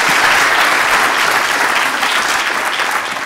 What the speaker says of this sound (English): give a little applause for Ashwin